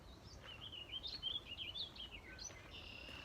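Birds chirp near a shore with waves, bright tweets and short trilling calls scattered over a couple of seconds, faint and a little distant, with a soft hiss of background beneath.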